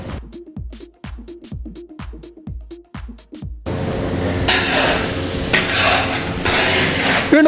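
A large pot holding 7 kg of chopped onions for samosa filling is stirred, first as a run of sharp metallic scrapes and knocks in a steady rhythm, then as a dense continuous sizzle and clatter, close and loud.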